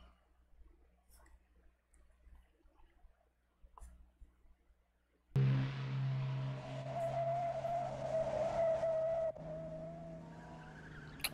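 Aston Martin and Ferrari in a car chase: after a few quiet seconds a sudden loud burst of squealing, skidding tires with engine roar, holding strongly before easing slightly.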